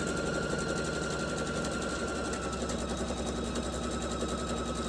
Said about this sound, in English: I'll sew my border strips together.